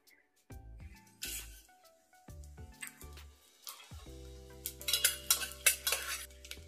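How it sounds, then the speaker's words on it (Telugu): Spices for tempering crackle and sizzle in hot cold-pressed safflower oil, close and quiet, with metallic clinks of a spoon against the pan and a rising burst of spattering toward the end. "ఆయిల్ వేడైపోయిన తర్వాత పోపు దినుసులని మనం యాడ్ చేసుకోవాలి"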